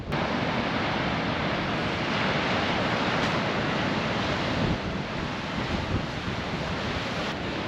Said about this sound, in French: Il y a deux belles vagues